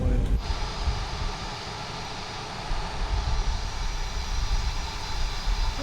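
An Endeavor Air airliner's jet engines give a steady low rumble with a broad hiss, heard from outside the plane and lasting throughout. A voice speaks briefly over the engine noise.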